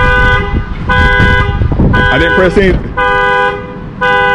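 A 2022 Dodge Charger Scat Pack Widebody's security alarm blares loud, close horn honks in a pulsing on-off rhythm, about five blasts with short gaps, while someone speaks briefly over it.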